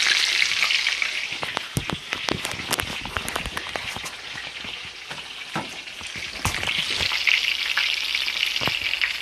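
Breaded chicken Kiev frying in hot oil, a steady bubbling sizzle with crackling pops and spits, close and continuous with no talk.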